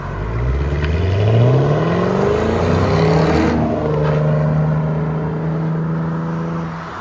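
A 2015 Chevy SS (Holden Commodore) with a 6.2L V8 and an X-pipe exhaust revs up loud and close, the engine tone rising and falling through several throttle blips with no talk over it.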